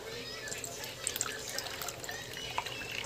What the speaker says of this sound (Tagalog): Salain natin siya dito, para wala siyang buo-buo.